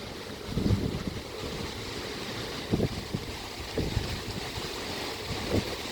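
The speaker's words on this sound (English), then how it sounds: "It's another wet and windy day." Gusty wind roars steadily against the microphone outdoors by a koi pond on a wet day, with occasional stronger bursts and a watery, rushing background.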